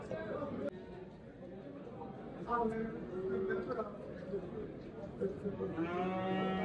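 Calves and cattle low at a livestock market, several moos rising over a background of chatter and someone talking close by.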